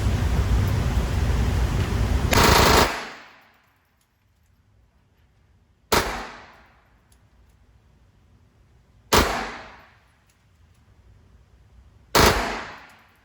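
A Taurus TX22 pistol fires Remington subsonic ammunition: one long burst of noise is followed by three single sharp shots spaced a few seconds apart, with quiet gaps between them and no talk.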